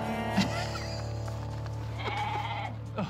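Transgenic goats bleat in a few wavering calls, close and distinct over a steady low hum, one near the start and others toward the end.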